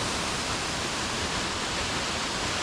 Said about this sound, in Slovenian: Tukaj na konc poti je pa spodaj še en slap